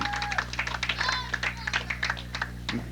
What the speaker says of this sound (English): the crowd is cheering for him a little bit